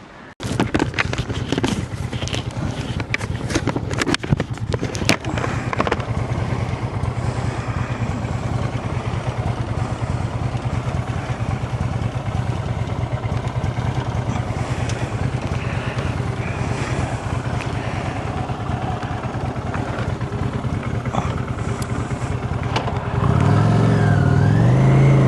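A motorcycle rides toward a bike shop with its engine droning steadily at close range under heavy wind buffeting, and a louder engine rumble rises near the end.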